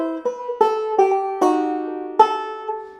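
An acoustic guitar plays a passing chord over a B7th chord shape, with about six plucked notes and strums ringing out cleanly, one at a time, with sustained decays.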